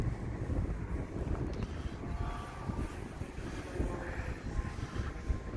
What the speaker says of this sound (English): You can see the wind is just blowing it all over the place.